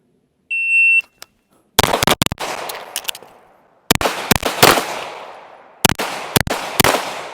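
Pistol shots during a timed shooting drill at 10 yards: a start beep, then three tight groups of loud, sharp cracks separated by brief pauses for reloads and hand changes, outdoors with no talk.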